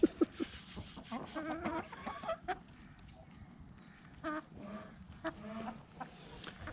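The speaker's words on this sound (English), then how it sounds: "That chicken's weird, man." A chicken clucks in short, irregular bursts close by outdoors on a sunny fall day, with brief pauses between calls and faint background sounds.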